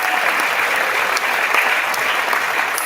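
Steady, dense applause from parents and guests in a school auditorium during an elementary fifth grade promotion ceremony, a continuous even wash of clapping with no voices over it.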